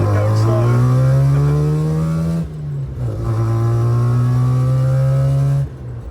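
A Mazda RX2 with a 51mm IDA carburettor labours at low speed, its steady engine drone rising, dipping briefly, then holding again before easing off, loud and close with talk over it.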